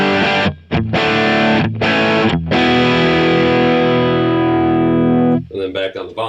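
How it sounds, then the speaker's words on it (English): An electric guitar through a JHS Morning Glory overdrive pedal plays a few choppy chords, then lets one ring out long and sustained before a couple of quieter strums. "the JHS Morning Glory, one of my kind of go-to overdrive pedals"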